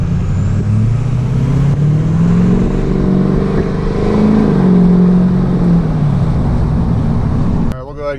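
A car with new wheels and tires and wheel spacers driving and getting up to speed on a freeway, a loud steady engine drone that rises and falls in pitch, with wind noise and a voice talking over it.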